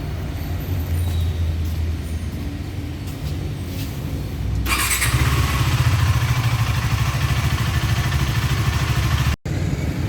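A KTM Duke motorcycle engine runs loud and close at a steady mid-pitched rumble. It surges to a fuller, harsher roar midway through, then holds there with a brief cut near the end.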